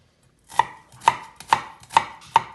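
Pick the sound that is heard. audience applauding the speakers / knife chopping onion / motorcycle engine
knife chopping onion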